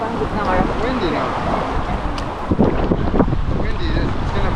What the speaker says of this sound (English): Windy, it's gonna push you everywhere.